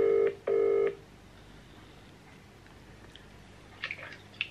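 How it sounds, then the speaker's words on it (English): Two loud DTMF keypad tones from a phone dialing a call on speakerphone, then a quiet room with faint small clicks and rustles near the end. "the only way to settle this is if we ring Dad, put him on speaker, and see what he would prefer"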